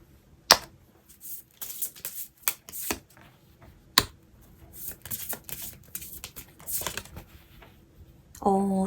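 Tarot cards handled and flipped over on a table, giving soft shuffling swishes with several sharp snapping clicks, spaced irregularly and close by.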